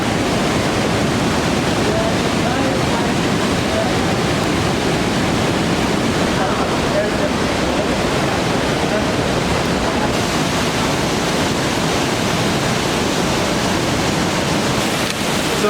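Constant loud rushing roar of a small waterfall in the slate gorge at Watkins Glen, a dense unbroken wash of falling water close by with no pauses.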